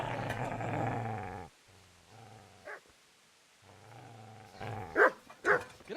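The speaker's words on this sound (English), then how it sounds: "Get away, you mutt!" A dog growls low and continuously, then falls quiet before breaking into a couple of sharp barks near the end, set in the medieval role-playing game Kingdom Come: Deliverance.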